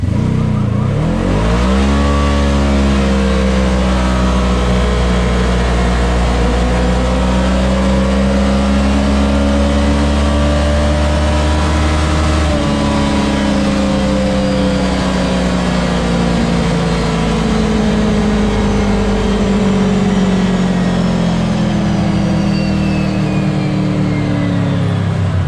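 Kawasaki KRX UTV engine revving steadily while riding across Sand Hollow terrain, a loud, continuous close-up drone with pitch that climbs sharply at first, then holds and slowly sags over the long run, with no talking.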